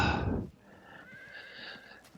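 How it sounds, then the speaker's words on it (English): Horse archers' mounts in the Field of Glory 2 video game: a brief burst of hooves, then a short whinny and snorting, fairly faint, with no talking. "These guys are horse archers."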